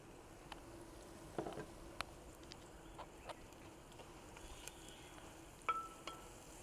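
Onions frying with a little salt in an earthen pot for a Kerala-style fish stew, a faint, steady sizzle with scattered small pops and light stirring clicks.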